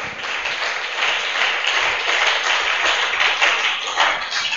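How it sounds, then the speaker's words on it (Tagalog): A church congregation claps steadily throughout, a dense wash of many hands that swells slightly in loudness, heard alone without talk. "Medyo lumalakas na palakpak."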